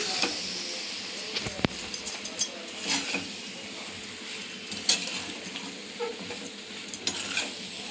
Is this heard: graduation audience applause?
no